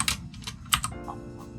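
Quick bursts of keystrokes rattle on a desktop computer keyboard during video editing, close and crisp, several rapid clicks in short clusters with no talking.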